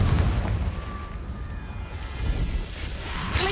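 A Confringo fire spell bursts in Hogwarts Legacy, a booming, rumbling explosion with heavy low-end crackle that rolls on continuously, loud and close throughout, with no speech.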